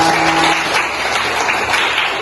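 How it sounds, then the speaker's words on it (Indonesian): A dense burst of applause from a classroom audience during a teacher certification performance test, steady and loud throughout, with no one speaking over it. "tepuk tangan untuk kita semuanya"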